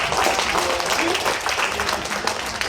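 Brief applause from an indoor audience at a leadership class, welcoming first-time attendees; dense steady clapping from a group fills the whole moment at moderate loudness, with some voices mixed in.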